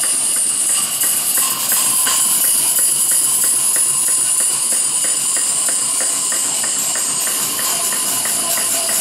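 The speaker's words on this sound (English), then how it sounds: "I can hear that burner roaring now" Steady roaring hiss of a demon burner firing a model steam engine, loud and continuous throughout, with faint rhythmic mechanical ticking underneath.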